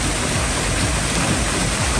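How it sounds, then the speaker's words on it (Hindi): A powerful mountain waterfall on the road from Shimla to Sangla roars as a dense, constant rushing wash, loud and near, with no voices over it. "जबरदस्त झरना"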